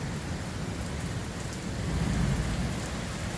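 Heavy rain during a hailstorm pours steadily as a dense, loud hiss with a low rumble beneath it and no voices.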